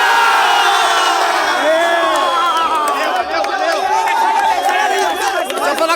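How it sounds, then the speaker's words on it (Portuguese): A Brazilian football crowd celebrating a 1-0 derby win cheers and shouts loudly and continuously, a dense, roaring wall of voices close around. "a torcida do Gaúcho atrás, comemoração."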